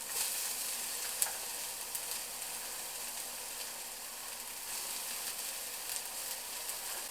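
Small pieces of chopped zucchini and pork sizzling steadily in a hot frying pan, a constant bright hiss up close with a few faint clinks of stirring.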